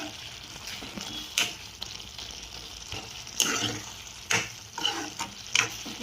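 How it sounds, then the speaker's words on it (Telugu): Ridge gourd, tomato, green chilli and onion cooking in a pan give a steady close sizzle, broken by several scraping stirs and clinks of a spoon against the pan. "ఇప్పుడు ఒకసారి మొత్తం మిక్స్ చేసేస్తాను."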